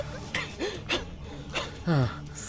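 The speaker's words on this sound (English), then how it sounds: "I'm already gasping for air." A person gasps for air while hurrying on foot, several sharp ragged breaths with a strained, voiced gasp near the end, close and fairly loud.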